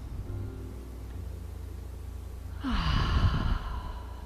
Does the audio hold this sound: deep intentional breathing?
yes